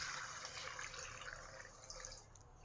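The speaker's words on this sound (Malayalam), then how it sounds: "വെള്ളം ഒഴിച്ച് കൊടുക്കുക." Water is poured into a cooking pot holding a papaya and elephant-foot yam buttermilk curry. The splashing trickle stays faint and steady, with no talking.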